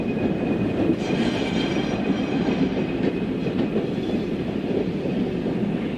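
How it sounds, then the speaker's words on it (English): Red Rock Island Alco RS3 diesel locomotive number 491 running light at Blue Island Junction in 1963, a steady rumbling roll with rail clatter and faint wheel squeal, fairly loud and continuous. "Rock Island Alco RS3 number 491 in red paint runs light at Blue Island"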